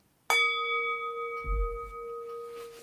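A small gong is struck once and rings with a clear, sustained metallic tone that fades slowly, with a low soft thump partway through the decay.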